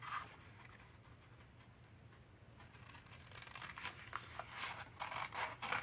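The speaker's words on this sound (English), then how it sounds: "This one we're just going to cut to the right of the score line." Scissors cut scrapbook paper for an album pocket, close to the mic: faint rustling at first, then a quick series of soft snips and crisp paper scrapes that grow louder toward the end.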